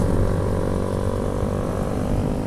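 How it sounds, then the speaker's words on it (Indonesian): Motorcycles fitted with racing exhausts produce a steady, loud, droning engine roar that stays constant throughout, with no talk over it. "Soalnya pada pakai knalpot ini semua sih, knalpot racing semua"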